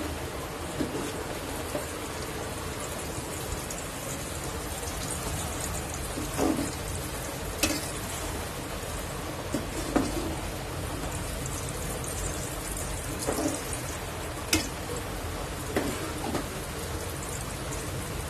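Mustard oil with fenugreek and black cumin simmers in a pan, making a soft, steady bubbling hiss broken by faint pops and crackles.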